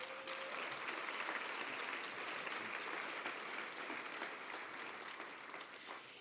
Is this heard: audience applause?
yes